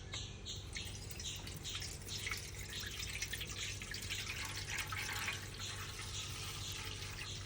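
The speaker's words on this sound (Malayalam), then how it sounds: "അപ്പോൾ ഈ വെള്ളം ഊറ്റി കൊടുക്കട്ടെ." Water poured off settled arrowroot starch in a home kitchen, a steady trickling and dripping with splashy water noise throughout, moderately close, with faint birdsong in the background and no talking.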